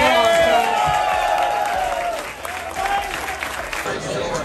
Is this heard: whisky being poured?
no